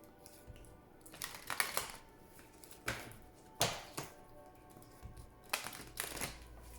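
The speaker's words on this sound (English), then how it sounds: "Please think of your question as I shuffle the cards." Cards being shuffled in several quick riffling bursts with pauses between, close and crisp, each burst a short papery flutter.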